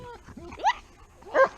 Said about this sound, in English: these are two of my German Shepherds